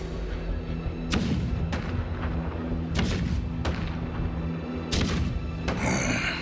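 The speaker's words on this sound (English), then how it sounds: "The rumble of the cannons." Cannons rumble in the video game Honkai Star Rail, a series of heavy booming thuds at irregular intervals over a steady droning, tonal game backdrop.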